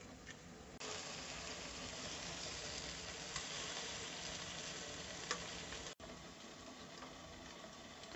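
Gulab jamun deep-frying in a kadhai of hot oil, a steady soft sizzle and bubbling that runs throughout, fairly faint, with a couple of light clicks and a brief dropout.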